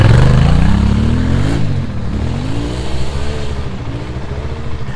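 A Yamaha Tenere 700 or Husqvarna 701 motorcycle engine revs up loudly nearby, pitch climbing as it accelerates, then settles into a steady drone.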